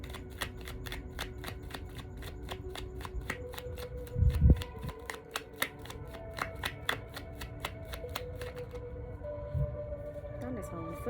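Tarot cards are shuffled and drawn by hand in soft, repeated riffling and slapping bursts, with a steady rhythmic ticking pulse in the background and a few louder thumps.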